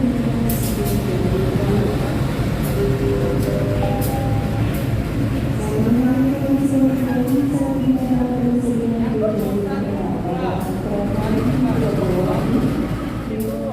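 The Probowangi passenger train pulls into Surabaya Gubeng station, a steady rumble with rising and falling wheel and brake squeal, platform announcements and voices under the noise throughout.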